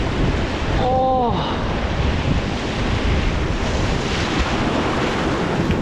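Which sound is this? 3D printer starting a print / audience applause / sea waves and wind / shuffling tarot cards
sea waves and wind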